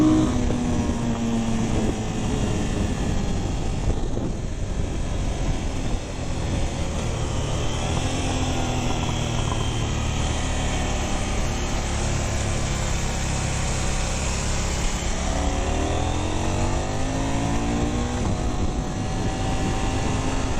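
KTM 990 RCR motorcycle engine heard while riding, a constant loud drone with rising and falling revs and gear-change pitch sweeps, under heavy wind rush and with no talking.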